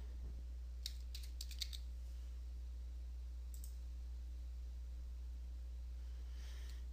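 Password being typed on a computer keyboard during a Windows local account login: a short burst of quick clicky keystrokes early on, a couple more taps later, fairly faint over a steady low electrical hum.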